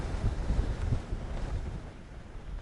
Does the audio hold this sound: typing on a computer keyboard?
no